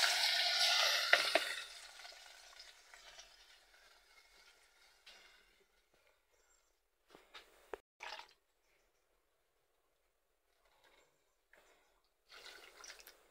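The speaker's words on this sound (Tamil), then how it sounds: "அப்படியே தண்ணி ஊற்றிக்கிறீங்க." Water pours into a cooking pot while drumstick sambar is being made: a loud, splashing gush for about two seconds, then fading trickles, with a few faint clinks and drips later in near silence.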